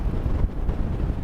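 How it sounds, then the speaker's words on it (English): Strong wind on a coastal clifftop walk buffets the microphone, making a steady, loud, low roar that rumbles without a break through the whole short clip. "It's so windy though"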